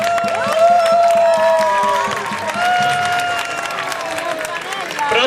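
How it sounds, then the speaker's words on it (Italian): Crowd applauding the Rione Borgo district at Vezzano's 2015 grape festival contest, dense steady clapping and cheering alongside sustained tonal music or whistles, loud throughout. "Un bel applauso per il Rione Borgo"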